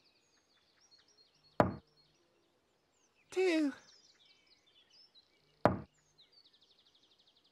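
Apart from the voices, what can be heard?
knocking on a door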